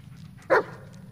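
A single short dog bark in the Blair Witch video game, sharp and fairly close over a low steady background hum.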